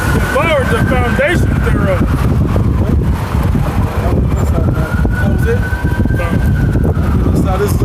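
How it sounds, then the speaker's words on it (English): Ambulance sirens wailing as they pass in both directions, rising and falling tones over loud traffic and wind buffeting, with a voice speaking over them. "How the hell all these ambulances going both directions?"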